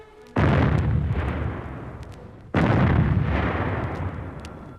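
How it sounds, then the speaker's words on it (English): Two heavy explosions, each a sudden loud blast followed by a long rumbling decay, the second about two seconds after the first. "Explosions."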